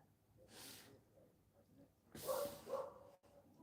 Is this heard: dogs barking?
yes